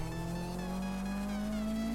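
A car engine revs in the racing game Need for Speed, a brief steady rising tone with tire squeal and skidding over it, close and continuous.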